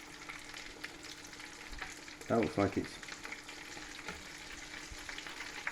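Battered chickpea fritters fry in oil with a steady, close crackling sizzle, and a brief voice cuts in over it partway through.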